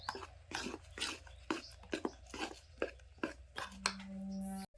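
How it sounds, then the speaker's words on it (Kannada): Cake batter with added milk being mixed gives a series of soft, close wet strokes and scrapes in an uneven rhythm, ending with a steady hum. "ಸರಿಯಾಗಿ ಮಿಕ್ಸ್ ಮಾಡ್ಕೊಂಡ್ಬಿಡ್ತೀನಿ ರೀ"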